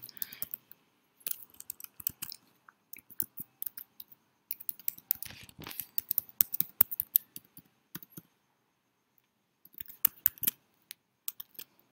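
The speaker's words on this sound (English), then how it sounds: "so let me enter my password" A password is typed on a computer keyboard in short, quiet bursts of close key clicks, separated by brief pauses, with no talking.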